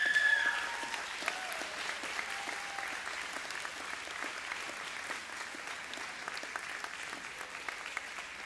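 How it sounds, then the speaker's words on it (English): Audience applause at a high school commencement, a sustained wash of many hands clapping that starts a little louder and then holds steady, moderately distant throughout. "give a round of applause to those folks in front of you right now"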